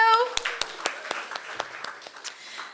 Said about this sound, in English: one more round of applause for that amazing presentation from the African People's Solidarity Committee